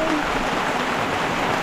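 Heavy rain pours steadily outside a small hut among trees, a dense, even hiss that stays loud and close throughout.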